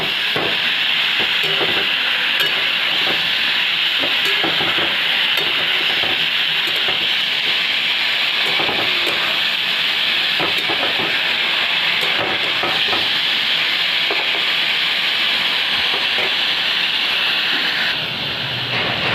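Pumpkin greens sizzle steadily in a pan after turmeric is added, a continuous close frying hiss with occasional stirring scrapes and no talking.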